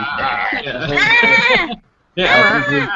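A person imitates a sheep with two loud, wavering bleats separated by a short pause, voiced close to the microphone.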